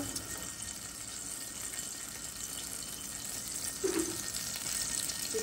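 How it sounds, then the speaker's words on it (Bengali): Whole cumin seeds hit hot oil in a pan as fish is being cooked, a steady hiss of sizzling that holds throughout the clip, with a few brief crackles and no talk. "তেলটা গরম অবস্থায় আমি দিয়ে দিচ্ছি জিরা, আস্ত জিরা"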